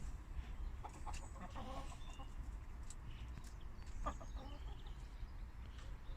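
Chickens and cockerels eating in a backyard run, with soft scattered clucks and brief sharp pecking taps over a low steady background, fairly quiet and irregular.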